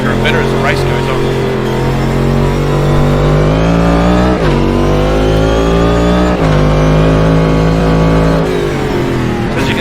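A race car engine in a racing video game set at Oulton Park circuit, loud and continuous, with the pitch climbing through repeated gear changes under an excited commentary voice.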